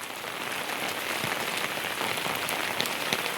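Steady rain pours down on the ground outdoors, a dense, even hiss of drops close around with no voices.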